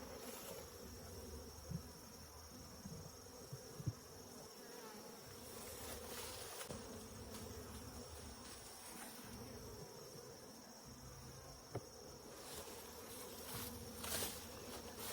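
Honey bees buzzing steadily around open hives during a hive inspection, a dense continuous drone close by with a few soft knocks and thumps mixed in.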